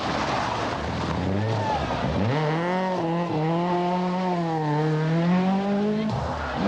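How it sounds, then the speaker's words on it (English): A 1986 Nissan 240 RS rally car slides sideways through a stage corner in the Circuit of Ireland. The engine howls as it rises and falls, over a constant loud rush of road noise. "Simon Davison's Nissan 240 RS was completely sideways"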